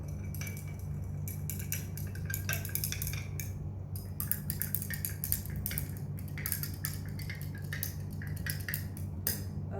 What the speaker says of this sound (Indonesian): Semuanya diaduk.